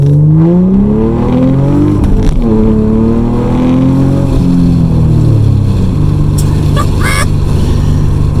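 A Nissan Altima Coupe 3.5 SE pulling away in first gear, engine note rising and falling in a loud, close drone heard from inside the car, with a brief high chirp near the end.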